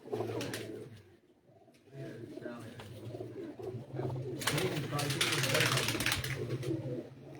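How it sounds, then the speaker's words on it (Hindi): Champion-breed pigeons coo in a low, steady murmur alongside other bird calls, with rustling and background noise rising toward the end. "एक चैंपियन खिलाड़ी की चैंपियन ब्रीड के जो तैयार कबूतर हैं उनका मैं आपको शो करवा देता हूँ।"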